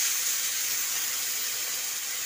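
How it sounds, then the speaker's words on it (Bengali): Water poured into a hot pan of fried amra hisses and steams loudly and steadily, a broad bright rush that barely varies from start to finish, with no voices. "এবারে জল দিয়ে দেবো।"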